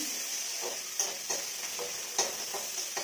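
Nigella seeds tempering in hot oil for a vegetable dish give a soft, fairly quiet sizzle, with light stirring strokes recurring about every half second.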